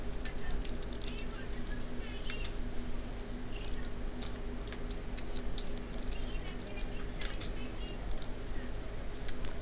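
Rapid irregular clicks of keys being typed on a keyboard, steady and close, over a constant low electrical hum.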